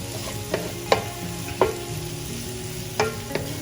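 Ginger garlic paste frying in a tandoori chicken masala, a steady sizzle with a few sharp scraping stir clicks spaced through the pan, close and moderately loud with no voices.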